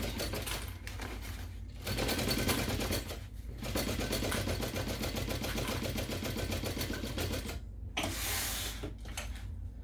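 A sewing machine back-stitches and runs along the seam of a homemade messenger bag, a steady close mechanical whir with brief pauses between runs, loud and continuous with no talk.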